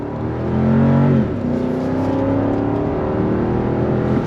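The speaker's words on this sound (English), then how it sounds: "But here we go, on throttle." A 2023 Lexus GX 460 SUV's non-turbocharged engine revs up hard under throttle, a loud, steady rising drone with a brief dip before climbing again; no voices.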